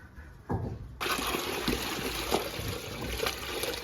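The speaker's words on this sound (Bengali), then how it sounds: "একটু জল দাও, আর একটু জল দেবো ঠিক আছে দিচ্ছি" Water is poured steadily onto a large 2.5 to 3 kilogram magur catfish caught by hook in a pond, a close, continuous splashing trickle that starts after a brief quieter moment.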